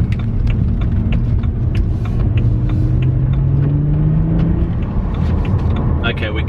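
BMW 130i hatchback driving on a road, a steady low engine and road rumble with a rising tone as it accelerates, continuous and close throughout.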